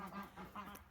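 A goose on a farm after a snowstorm honks in a short series of nasal calls, close and fairly quiet, with no talk.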